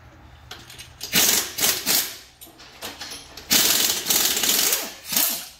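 Lug nuts being run onto the wheels of a red Ford F150 5.0 with an impact tool, several loud rattling bursts of rapid hammering separated by short pauses, close by.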